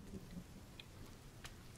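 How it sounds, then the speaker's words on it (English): Rain falls in the survival game The Forest as a steady, soft, even hiss with a few faint thunder-like rumbles underneath and no voices. "Oh yeah, rain cleansed my body."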